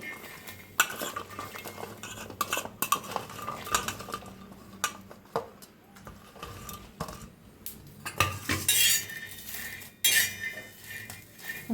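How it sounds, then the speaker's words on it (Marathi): Peanuts roasting in a pan for village-style red chili thecha, stirred with metal utensils, then chilies and garlic tipped in; close, busy scraping and clinking with soft crackle, ending in a louder bright rattle of ingredients dropping in. "मिक्स करून शेंगदाणा भाजून घेऊया"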